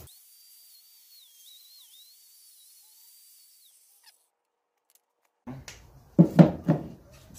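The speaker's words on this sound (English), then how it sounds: "so I'm gonna go back to the grinder." An angle grinder working on a motor mount for a mini boat trolling motor gives a steady high whine alone for a few seconds, then stops; later come some louder low clunks and knocks.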